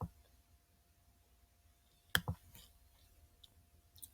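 A single sharp mouse click stands out close and clear, followed by a few softer clicks and small taps in an otherwise quiet room.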